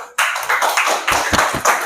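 Students clapping together in a ninth-grade civics classroom, a short burst of brisk, close, rhythmic handclaps from a small group.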